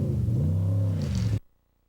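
A Class 8 desert race truck blasts across open desert, its engine a loud, deep, steady roar with a rising harmonic drone that cuts off abruptly after about a second and a half, leaving near silence.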